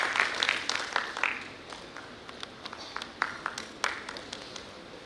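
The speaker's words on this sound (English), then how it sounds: "A big round of applause to all these people who have helped this particular event" An audience at a steel industry conference inauguration in Bhilai claps, starting with a brief denser burst and then thinning to scattered individual claps in a large hall.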